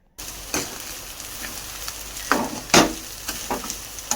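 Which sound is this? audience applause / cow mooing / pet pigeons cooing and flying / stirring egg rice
stirring egg rice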